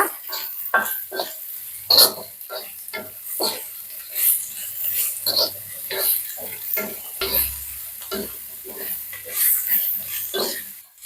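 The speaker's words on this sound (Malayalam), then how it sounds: "എന്നിട്ട് നന്നായിട്ട് ഇളക്കുക" Green gram and fish curry for a Malaysian-style dish being stirred in a pan, a steady run of scraping, knocking spoon strokes against the metal with a soft sizzle underneath, close and fairly loud.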